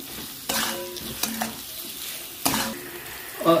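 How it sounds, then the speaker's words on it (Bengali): Fried drumstick stalks are stirred in a melted tamarind and sugar mixture for a pickle, with four distinct scraping strokes of a spoon in the pan over a soft, low sizzle. "আমি ভেজে রাখা ডাঁটাগুলো দিয়ে দেবো, দিয়ে ভালো করে এবার নাড়বো।"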